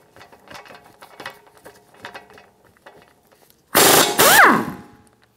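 A ratchet with a 19mm socket clicks in quick bursts while backing off a lower ball joint nut on a 2013-2017 Honda Accord, followed by a louder, brief metallic whir and squeal up close, with no talking.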